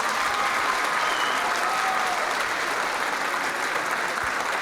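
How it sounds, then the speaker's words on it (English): Sustained applause from an audience at the Maid of Petroleum contest during an Oildorado celebration, a steady dense roar of clapping that fills the whole stretch without any voices over it. "So if you guys could give these 3 ladies a big round of applause."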